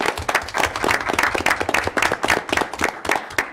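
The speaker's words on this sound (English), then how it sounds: "So we can give them a round of applause, please." Applause from a committee meeting audience for the facilities and safety committee: a steady, dense patter of many hands clapping at moderate loudness, with no voices over it.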